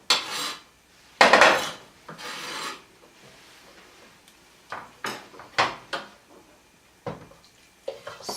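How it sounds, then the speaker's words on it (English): A spoon scrapes and rasps through a wild rice mixture with herbs and feta cheese in a bowl, with a few bursts of stirring separated by quiet pauses and no voices. "Stir that together."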